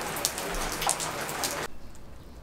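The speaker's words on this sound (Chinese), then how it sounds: "突然又开始下雨" Rain suddenly starts falling outdoors beside a wood-fired pot where a pig's head is braising, a close, dense patter of drops on surfaces that stops abruptly partway through, leaving near quiet.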